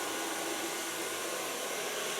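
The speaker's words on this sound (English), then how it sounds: "So far blow drying." A hair dryer blows on short clipped hair, a steady loud whooshing roar that stays even and unbroken throughout, close to the microphone with no voices.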